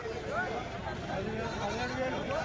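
Sheep or goats bleat at a busy Tuesday livestock market in Kadiri, several wavering calls rising over a steady crowd murmur and nearby talk.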